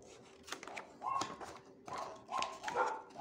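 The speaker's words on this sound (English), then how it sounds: "Here we go with the dogs. They just never stop barking." Dogs bark in several sharp, irregular bursts over a few seconds, fairly faint and somewhat distant, with scattered background noise between the barks.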